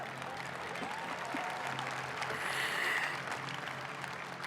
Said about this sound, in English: You have to clap for women.